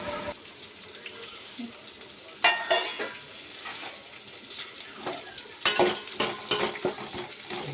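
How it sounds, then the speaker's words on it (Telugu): A spoon scrapes and stirs biryani masala through a sizzling pan, with sharper scraping bursts at intervals over a steady frying hiss. "వీటిని కూడా బాగా కలుపుకుందాం."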